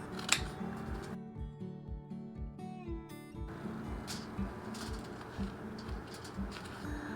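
Scissors cut repeatedly through material while Easter home decor is being made, giving a steady series of close, crisp snips throughout with a brief musical tone in the background.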